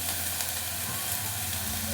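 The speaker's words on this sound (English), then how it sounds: "We fry our onion until it's golden brown." Onions fry in oil on a cooking fire with a steady, close sizzle and hiss that runs unbroken throughout.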